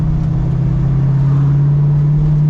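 A 1968 Mustang Fastback engine runs in first gear, holding a loud, steady droning note with no voices over it.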